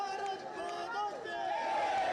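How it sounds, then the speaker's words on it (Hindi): A crowd lining both sides of the street during a Modi roadshow, many voices shouting and chanting together in a dense, continuous roar at moderate distance. "इस दौरान लोगों ने मोदी मोदी के नारे लगाए"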